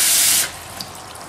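Water pours in a strong, hissing stream into a mixing container, then cuts off abruptly, leaving a brief faint trickle and a small splash.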